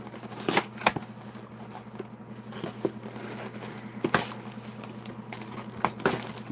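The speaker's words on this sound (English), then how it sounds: "Ooh, I ripped the box open." A cardboard snack box for lemonade-flavoured chips being torn open, with a series of sharp crinkling rips and tears spaced over several seconds against a steady low hum.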